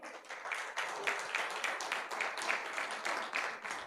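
Worshippers at a church service applaud the Lord with steady rhythmic clapping, dense and even in loudness, continuing without pause throughout.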